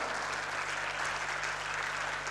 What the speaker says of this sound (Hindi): जोरदार तालियां, लंबा हाथ।